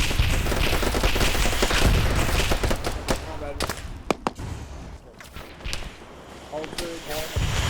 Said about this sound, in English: We've got this group trying to dodge BMP shots.